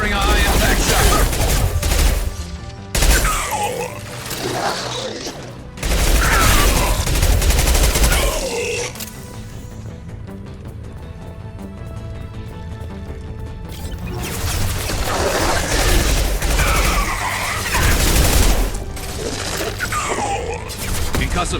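High-impact gunshots in the video game Mass Effect 2, with loud repeated volleys of gunfire and crashing impacts in several bursts separated by quieter stretches of battle ambience.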